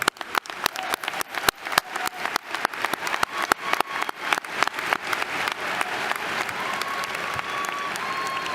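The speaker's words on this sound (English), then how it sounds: "Let's give them a round of applause." Commencement crowd at UCF's Spring 2024 ceremony applauds graduates who donated to the class gift, starting with sharp, distinct claps that quickly swell into a continuous, loud roar of clapping across a large hall.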